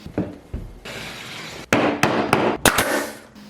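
Hammer tapping on wainscot panels during installation, a run of sharp, close, fairly loud knocks, first spaced and then coming in a quicker cluster, with no talk over them.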